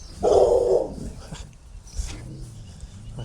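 A dog barks a short burst nearby, followed by softer whimpering sounds and faint rustling.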